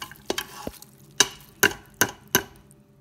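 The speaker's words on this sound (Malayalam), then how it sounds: "ഇനിയിപ്പം അട ഇതിലേക്ക് ചേർക്കാൻ പോവാണ്" Rice ada going into hot ghee in a pressure cooker makes a series of sharp stirring clacks and brief sizzles, about six distinct hits, close and fairly loud.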